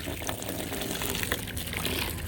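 Water gushes and splashes continuously while mud is being mixed for a pig, a steady close rushing wash with no pauses.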